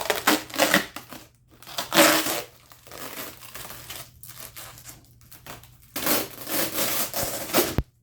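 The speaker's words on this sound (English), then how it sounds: "let's go ahead and remove the plastic" Plastic wrap crinkles and crackles as it is pulled off a new HB R1001 Bronco RC truck during unboxing, in several loud bursts separated by short pauses, close up.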